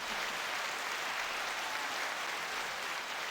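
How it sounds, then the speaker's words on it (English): Steady applause from a podcast audience, a continuous even wash of clapping held at moderate level throughout, with no voices over it. "Let's all give a round of applause."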